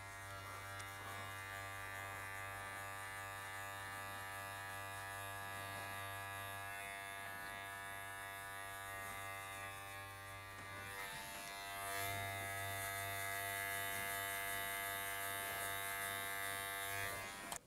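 Electric hair clippers buzz steadily while cutting a fade, a close, constant electric drone that shifts pitch slightly when the blade meets hair.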